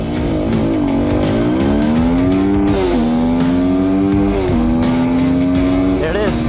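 A Husqvarna FE350 dual-sport motorcycle is ridden hard on a paved road, its engine note climbing steadily through the gears with brief shift dips, loud and close throughout.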